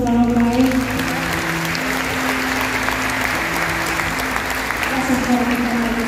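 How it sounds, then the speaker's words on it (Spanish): Audience applause fills a concert theatre, a dense, sustained roar of clapping from a large crowd, steady and loud from start to finish, with a voice faintly audible beneath it. "Un fuerte aplauso"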